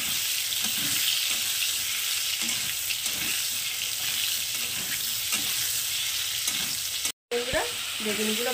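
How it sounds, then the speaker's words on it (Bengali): Eggplant pieces being stirred and fried in oil for doi begun, a vegetarian curd-eggplant dish. A steady close-up sizzle runs throughout with repeated stirring scrapes, then breaks briefly near the end. "বেগুনগুলোকে এখন আমি উল্টে পাল্টে পুরো লাল লাল করে ভেজে নেব"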